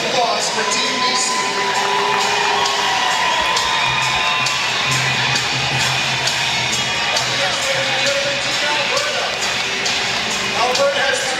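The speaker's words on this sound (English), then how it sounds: "One more big round of applause for Team BC." A crowd at a lacrosse nationals opening ceremony in a sports arena cheers, whoops and shouts for Team BC, with loud sustained noise and children's voices throughout.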